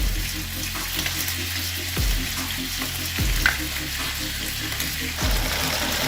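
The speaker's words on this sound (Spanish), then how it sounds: "les ponemos la sal y las pongo a freír." Salted cut potatoes fry in hot oil with a steady, dense sizzle and bubbling, punctuated by a few low thumps as they are moved in the pan.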